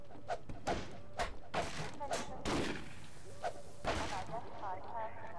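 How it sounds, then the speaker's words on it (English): Bursts of gunfire in Half-Life 2 strike wooden boards, a run of sharp, irregular shots and thuds spaced across a few seconds, fairly close and loud, with no talking. "I'm trying to break down these boards with the bullets."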